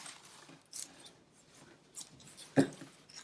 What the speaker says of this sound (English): And we're just going to be cutting strips.